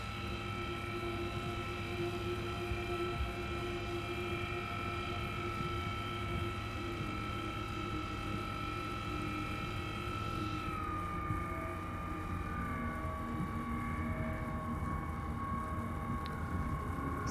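A ROC mining vehicle in Star Citizen speeds up with a steady, droning engine whine that holds on and then glides into a lower, smoother tone about two thirds through. It is mid-level and continuous and plays alone, with no talk.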